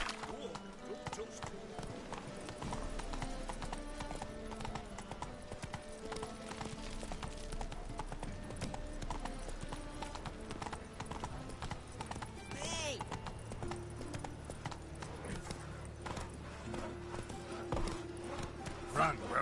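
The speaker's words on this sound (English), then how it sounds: "Run, Roach." Roach the horse galloping in a video game, a fast steady clip-clop of hooves running under game music and ambience, with a brief whinny partway through and speech-like sounds mixed in.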